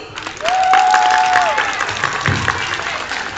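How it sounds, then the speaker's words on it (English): Audience applause at a live speaking event, a dense wash of clapping that stays loud across the whole stretch, with a brief whistle-like tone and crowd noise mixed in. "So round of applause, please."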